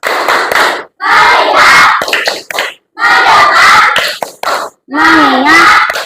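A class of children claps out a rhythmic ice-breaker chant led by a teacher, bursts of patterned clapping mixed with loud group voices shouting in unison, separated by brief silences.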